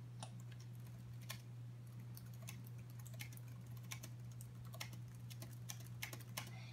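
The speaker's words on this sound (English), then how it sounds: "So let's just type." Steady computer keyboard typing during Microsoft Office 365 work, a run of quick, fairly close key clicks over a constant low hum.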